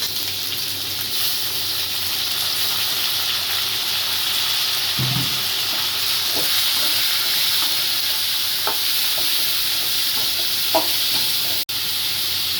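Ingredients for drumstick sambar sauté in a pan with a continuous close sizzle and hiss, broken now and then by soft scraping of stirring.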